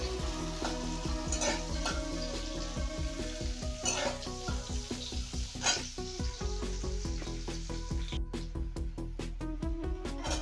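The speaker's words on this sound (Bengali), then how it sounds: "করলাটা ভাজা হয়ে গেছে আমি এটা সরিয়ে নিলাম" Bitter gourd (karela) fries in a pan with a loud, continuous sizzle close by. Repeated stirring scrapes and light metallic clinks run through it.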